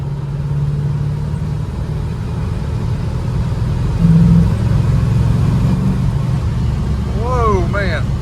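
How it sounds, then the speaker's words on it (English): A 1967 Chevelle SS 396 with a four-speed rumbles from inside the car on a ride, a loud, steady engine drone that swells briefly as it pulls, with voices talking over it. "Going for a ride in a 67 Chevelle SS 396."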